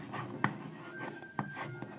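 Writing on a board during a physics lesson, a few scratchy strokes and sharp taps of the marker or chalk, close and fairly quiet.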